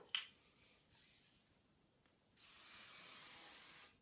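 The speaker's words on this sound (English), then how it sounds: "Last spritz of hairspray." Hairspray from an aerosol can is sprayed onto hair in a short hiss, then a longer steady spritz lasting over a second, close and clear with no voices.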